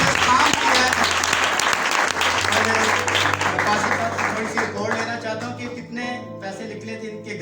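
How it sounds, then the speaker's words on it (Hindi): Loud applause from a congregation at a church camp gathering fills the first half, then fades as a tonal hum and voices take over toward the end. "और हम सब कैंप के लिए एक बार जोरदार तालियां बजाएं।"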